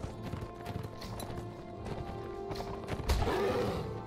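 Hooves clip-clop at a gallop from a horse in the video game Mount & Blade: Warband, played with The Last Days of the Third Age mod, with rapid rhythmic beats, a snort or whinny, and battle noise.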